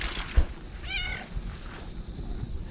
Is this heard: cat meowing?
yes